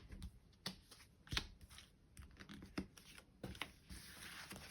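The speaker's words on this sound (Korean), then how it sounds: "카드 뽑으면서 진행하도록 하겠습니다." Tarot cards being shuffled and drawn close up: quick papery riffles, slides and taps in irregular bursts, with no talking.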